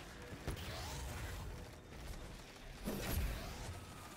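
A door opens in the Destiny 2 Vow of the Disciple raid with a low mechanical creak and grinding, swelling twice over a few seconds, fairly faint under game ambience.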